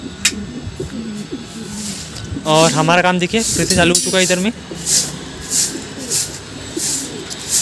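Pigeons coo softly in a bird cage, low throaty calls coming and going, while someone speaks over them partway through.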